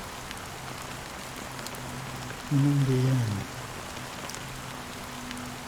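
Steady rain falls in the video game Honkai: Star Rail, a soft continuous hiss that runs throughout, while a voice speaks briefly near the middle over low background music.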